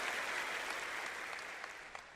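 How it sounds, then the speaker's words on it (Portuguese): An audience claps steadily to welcome two guests from Israel onto the stage, a dense, even wash of applause held at moderate volume throughout. "quero que vocês recebam de coração e aplaudam"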